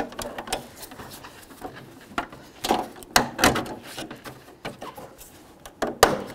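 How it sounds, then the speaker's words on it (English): Plastic parking light clips pushed into place on a 1994-2004 Chevy S-10: a series of sharp, close clicks and snaps at an irregular rhythm, with some louder pops near the end. "Line up your clips and go ahead and push them all in."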